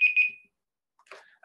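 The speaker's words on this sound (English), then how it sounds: "that was my timer saying I should stop talking" Electronic timer alarm beeps twice in quick succession, fairly loud, then quiet with a faint rustle afterward.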